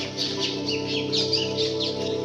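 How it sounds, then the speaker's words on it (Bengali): Several birds chirp and call in overlapping bursts in the morning at a forest bungalow in Purulia, against a steady low hum, fairly close and clear. "এখনো সকালে পাখির ডাক শোনা যাচ্ছে চারিদিকে"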